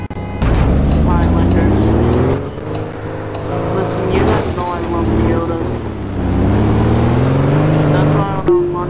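In the Roblox game, a drivable car engine hums and revs, rising and falling in pitch across several accelerations, loud and close, with a person talking over it.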